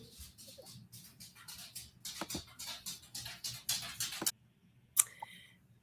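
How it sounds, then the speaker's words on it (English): A dog pants in rapid, rhythmic bursts close by, breathy huffs running steadily for several seconds before stopping, then one sharp sound after a short pause. "we might just have to let Petey bark through this episode"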